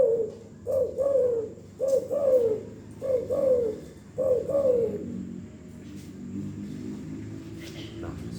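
A man imitates the call of a spotted dove with his voice, producing five rhythmic cooing phrases in a row, each a short rising-falling coo, close and clear, then the calls stop and only faint background hum remains.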